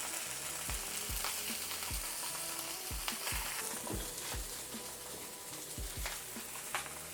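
Salmon sears in a hot pan with a constant crackling sizzle, broken by several low thumps and scrapes as the pan or fish is moved, fairly close and with no talking.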